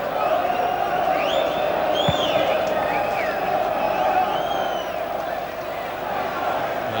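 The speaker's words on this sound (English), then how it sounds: "It's a crowd here at Turf Moor today that's expected to give Burnley record receipts." A large football crowd at Turf Moor during the Burnley v Blackburn Rovers match of December 2000 keeps up a constant roar, with whistles and rising shouts carrying over the steady hum.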